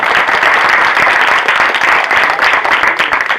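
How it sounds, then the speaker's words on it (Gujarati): An audience at a community programme gives a loud welcoming round of applause for Sonkar saheb: dense, continuous hand clapping from many people, close and sustained throughout, with no talking. "સોનકર સાહેબને એક જોરદાર તાળીઓથી આપણે વધાવીએ"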